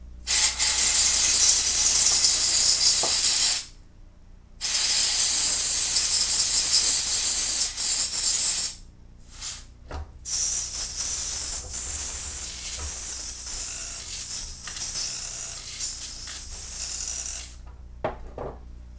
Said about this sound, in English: hopefully the canned air can just blow that right out